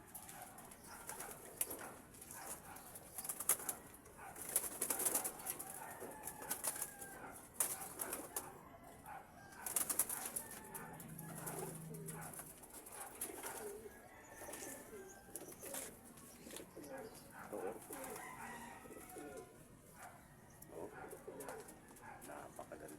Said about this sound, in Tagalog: Napakagandang kalapate. MMFC banded din.